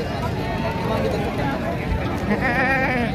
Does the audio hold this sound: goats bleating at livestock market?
yes